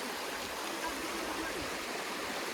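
A large stream at a riverside fishing spot rushes steadily and loudly, a continuous dense wash of flowing water with no breaks throughout.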